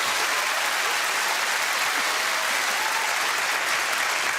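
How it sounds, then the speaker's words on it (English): Studio audience applause, a steady dense patter of many hands clapping at an even level throughout, with no voices over it. "we'll have a round of applause from our audience"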